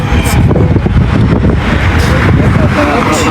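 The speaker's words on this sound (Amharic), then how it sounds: "ንፋስ ወጣ።" Wind buffeting a microphone outdoors in a German city, a loud, steady roaring rumble that fills the whole moment without breaks.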